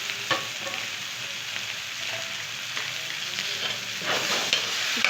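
Tomatoes are stirred into spinach and potatoes frying in a pan, with a steady sizzle under intermittent scraping and clinking of the spoon against the pan.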